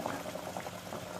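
Hot water is poured into a single pot of Saudi chicken kabsa, giving a steady, bubbling liquid rush that carries on evenly for the whole brief moment.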